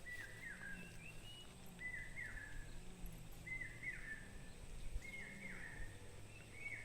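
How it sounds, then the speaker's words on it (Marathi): A bird repeats a sharp, high call about once a second, moderately distant, over a constant background hum and insect drone, in the Konkan countryside during dry weather. "बघा पाऊस नाही त्याच्यामुळे हे पाखरू बोंबाटता जोरात"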